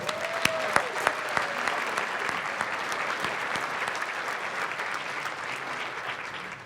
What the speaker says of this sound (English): Can we give these two one more round of applause?